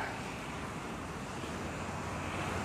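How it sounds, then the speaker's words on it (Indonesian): Strong wind roars steadily around a tall thirteen-storey hotel, a dense, unbroken rushing noise with heavy buffeting and no voices over it. "ada suara angin kencang banget, coy"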